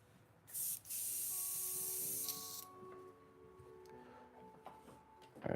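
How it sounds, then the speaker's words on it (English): Short bursts of airbrush spray hiss loudly while paint goes onto a Spider Gwen figure, the first brief and the second lasting about two seconds, followed by a faint steady hum and light clicks. "All right, I think we're good with the airbrush for a moment."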